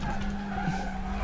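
Race car tires locking up and skidding in a touring car racing video game, a short squeal over a steady engine drone.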